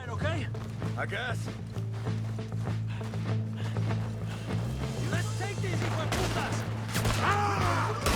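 Rapid bursts of gunfire in Red Dead Redemption 2 crackle repeatedly under a continuous engine-like hum, with voices talking over the action.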